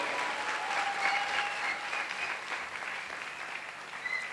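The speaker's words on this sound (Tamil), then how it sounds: "அவங்களுக்கெல்லாம் ஒரு கரகோஷத்தை கொடுங்க" Audience applause at a music festival anniversary celebration, a continuous patter of many hands heard at some distance, fairly soft but sustained, with faint tonal ringing in the hall behind it.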